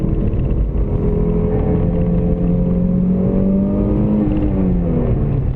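An Audi Quattro Sport engine revs hard toward 6000–6500 rpm, a loud, sustained rising growl heard from inside the car as the pitch climbs steadily, with no talking over it.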